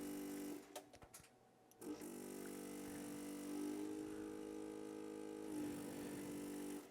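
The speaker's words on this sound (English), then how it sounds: "How hard the pump's working" Soldering fume extractor pump with a clogged filter running steadily nearby, a strained droning hum with a brief dip and clatter early on before settling back into a continuous laboring whine.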